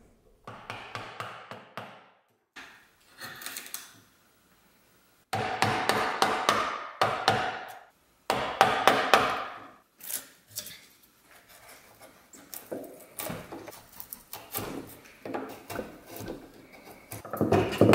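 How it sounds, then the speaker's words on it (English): Chisels chopping and paring waste wood out of a table leg joint: close, repeated sharp taps and knocks in irregular bursts, separated by brief quiet pauses. "it was just a matter of using chisels to remove all the waste"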